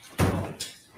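A courtroom door swings shut with a single soft thud, followed by a fainter click as it settles, heard close and alone.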